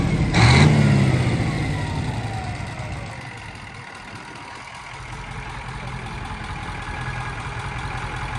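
A tractor engine runs steadily at a tractor show during a driving lesson, a loud revving burst at the start settling into a continuous mid-low idle-like drone with a faint high whine overhead.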